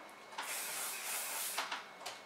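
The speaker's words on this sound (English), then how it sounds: "we're going to take some spray again" Short hissing bursts of hairspray from an aerosol can while styling victory rolls, a long spray followed by a couple of quick puffs, close and fairly soft.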